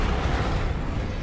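A dense, roaring burst from a Confringo blast spell in Hogwarts Legacy fills the whole moment, loud and steady with no pauses and no voices.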